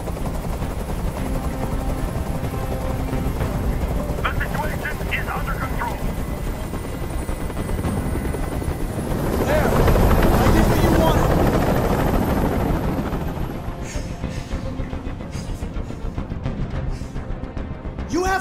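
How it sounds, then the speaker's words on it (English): A helicopter hovers nearby during a hostage standoff in the video game Detroit: Become Human, giving a continuous loud rotor roar that swells midway, with voices and other game sounds mixed in. "I can't stand that noise anymore. Tell that helicopter to get out of here."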